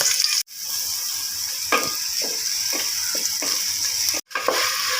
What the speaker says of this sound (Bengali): পেঁয়াজগুলো আমরা একটু ভেজে নেব